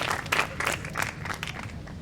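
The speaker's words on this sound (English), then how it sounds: "Huge cheers from the crowd here at Qatar Beach." A crowd at a beach karate kata competition in Qatar cheers and applauds in a short, moderately loud burst of clapping with some voices mixed in.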